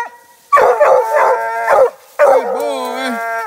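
A coon-hunting hound howls up close, loud and alone. A run of quick baying yelps is followed by a long, wavering drawn-out howl.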